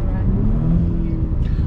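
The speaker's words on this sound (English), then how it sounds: "I love the turbo spools. It sounds really good." A 454 hp Audi B9 S4 with a Unitronic Stage 1+ tune pulls hard close up, its engine roar rising with turbo spool while a voice talks over it.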